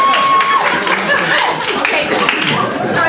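Comedy club audience claps loosely during a stand-up set, a dense spread of hand claps with some chuckling, steady for a few seconds, while voices talk over it.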